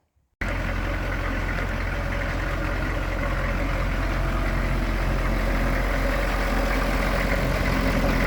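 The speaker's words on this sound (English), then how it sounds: "here's the running M1097A2 Hummer with the new radiator in it" An M1097A2 Hummer with a new radiator and hoses idles steadily after a short silent start, a close, even low engine rumble that stays constant throughout, with no talking.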